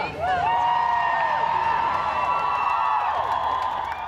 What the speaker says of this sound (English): I want to hear you cheer.